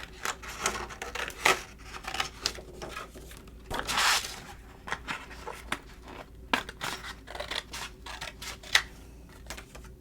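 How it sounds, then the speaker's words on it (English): Scissors snip through paper while cutting out handprint cactus craft pieces, a quiet series of crisp irregular clicks and short shearing cuts with brief pauses, close and soft. "Now let's take our scissors and cut everything out."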